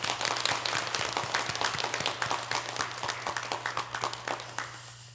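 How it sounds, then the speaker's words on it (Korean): A church congregation applauds in a Sunday service to encourage the women and mothers present. The claps are distinct, fairly close and rhythmic over a low steady hum, and they gradually thin out and fade toward the end. "박수로 격려하겠습니다."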